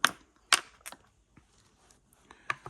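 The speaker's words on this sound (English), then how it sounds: "the dice sound on this board" Several sharp clattering knocks of dice tumbling onto a solid burled wood backgammon board, a few separate throws with quiet gaps between.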